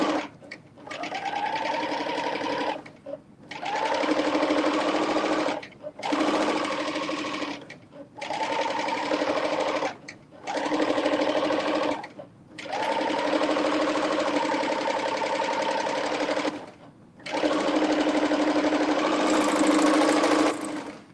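A serger stitches non-woven fabric in bursts of a few seconds each, a close, loud, even mechanical whir that stops and starts with brief pauses between runs.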